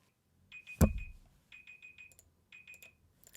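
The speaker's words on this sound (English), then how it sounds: "the timer just ended" A game timer alarm in Pet Simulator 99 beeps in repeated short bursts of bright electronic tones, several beeps grouped in rhythmic clusters after a sharp thump, fairly close and moderately loud with no talking.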